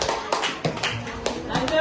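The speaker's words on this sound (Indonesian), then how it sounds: "Ya, tepuk tangan" A classroom of students gives a short burst of scattered, uneven hand claps, loose and close by, mixed with talking voices over less than two seconds.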